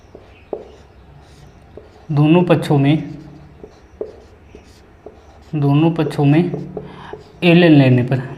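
Chalk scratches softly as a teacher writes a chemistry equation on a classroom board, faint and intermittent between stretches of his lecturing speech.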